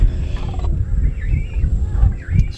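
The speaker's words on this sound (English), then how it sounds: "I think I hear an alligator or a crocodile" A low, rumbling animal roar, taken for an alligator or crocodile, rolls in repeated deep pulses outdoors in Florida, fairly loud with faint higher cries over it.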